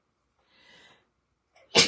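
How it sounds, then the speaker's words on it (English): A soft intake of breath precedes one sharp, loud sneeze that bursts in near the end, close and unaccompanied. "And I'm going to sneeze."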